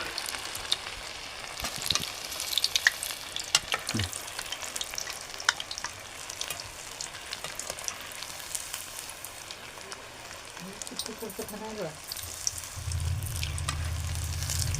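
Bread pakoda deep-frying in very hot oil, a steady close crackling sizzle running throughout with occasional stirring scrapes and a short low hum near the end.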